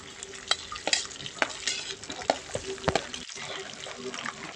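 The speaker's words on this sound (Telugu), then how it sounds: "పచ్చిమిర్చి వేసుకున్న తర్వాత దీన్ని బాగా వేయించుకొని పక్కకు పెట్టేసుకోవాలి." Green chillies fry in hot oil for a tomato chutney, giving a steady crackling sizzle broken by sharp utensil clinks and scrapes against the pan, close and moderately loud.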